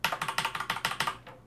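Fast, steady typing on a noisy mechanical keyboard with LED backlighting, about a dozen crisp clacky keystrokes in even rhythm, close and loud, with no voices.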